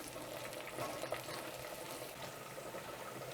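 Garlic sautéing in oil in a pan over medium heat, a soft, steady sizzle close by and fairly quiet, with no talking.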